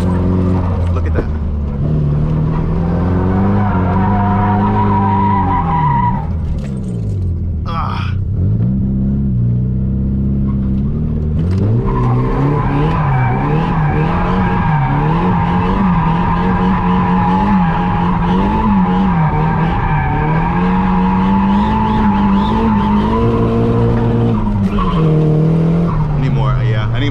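A drift car slides with sustained tire squeal and skidding over a loud, revving engine that rises and falls through the run, close and continuous, with a voice talking over it at times.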